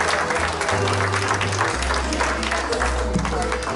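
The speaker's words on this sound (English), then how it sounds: "Let's once again give them all a big applause." A dog show audience applauds after the formal judging of the top dogs, a dense, steady burst of clapping from a crowd. Amplified speech sounds over it.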